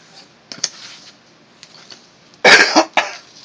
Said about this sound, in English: Never fails when I get on recording, I have to cough.